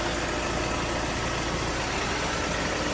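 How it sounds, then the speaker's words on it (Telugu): The 1.6-litre engine of a car idles close by, giving a steady, dense, unbroken rumble throughout, with no talk. "ఇంజన్ ఇదండి"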